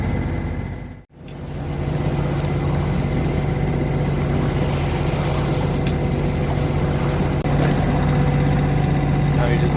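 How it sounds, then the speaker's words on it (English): A sailboat's motor runs steadily throughout while motor sailing on an open-sea crossing from Sicily to Sardinia, a constant low idling drone with a brief dropout near the start and faint voices under it. "Hopefully without the motor running in the background."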